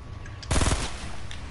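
A short burst of rapid automatic gunfire in Fortnite, a handful of close, sharp shots fired in quick succession, then quieter background.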